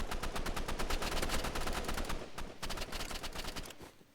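Rapid bursts of gunfire in a Roblox video game, dense automatic shots that continue for about two seconds, then thin out into separate quicker pops, fairly quiet overall.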